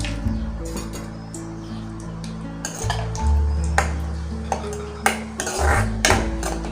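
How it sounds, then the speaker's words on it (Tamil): Broken cashews tumble into melted ghee in a metal pan, with a few sharp clinks and scrapes of a utensil against the pan over a low steady background. "இப்போ நம்ம வந்து உடச்சி வச்சுருக்க ஒரு 10 முந்திரி பருப்பு இதோட சேர்த்துக்கலாம்"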